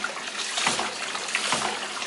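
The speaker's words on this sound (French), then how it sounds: "j'ai une pompe qui fait circuler l'eau du bac vers" A pump on a test bench circulates water from a tank up to a surge chamber, giving a steady splashing, trickling flow with small irregular surges.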